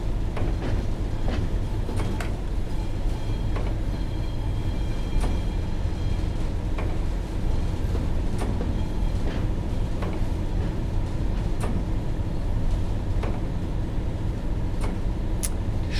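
A train in Train Sim World 2 on the Tees Valley Line crosses over the main line, giving a loud, steady rumble with scattered clicks and clacks of wheels passing over rail joints throughout.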